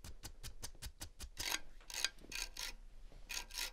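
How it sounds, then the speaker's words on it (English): An object scraped repeatedly close to a microphone while building a beat, first a run of short evenly spaced scrapes, then longer, louder rasping strokes in an irregular rhythm. "Let's try scraping it."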